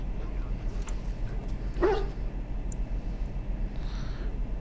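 A hound barks once in the fantasy video game Dragon Age, a single short yip in the middle over a steady background hum.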